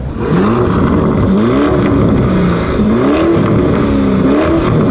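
A Lamborghini Urus Performante engine revs loudly several times in a row, each rev rising and falling in pitch with a deep growling exhaust.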